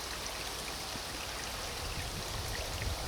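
Water runs steadily over and between rocks in a small stream, a constant close hiss and gurgle of splashing flow with no voices.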